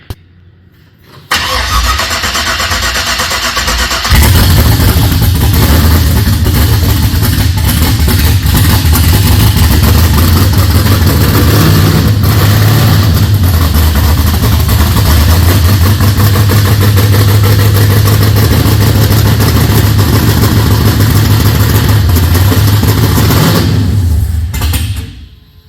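An LS V8 swapped into a Holden HZ cranks briefly and then fires into a loud, steady, deep idle. It runs close and alone for about twenty seconds before cutting off abruptly.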